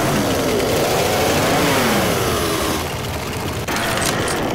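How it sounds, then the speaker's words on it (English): A chainsaw in the zombie game Left 4 Dead 2 revs loudly and steadily, its mid-pitched engine whine rising and wavering over a dense, noisy backdrop of gameplay sound. "Chainsaw here."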